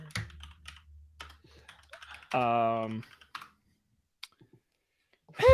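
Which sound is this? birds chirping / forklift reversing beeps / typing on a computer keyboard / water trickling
typing on a computer keyboard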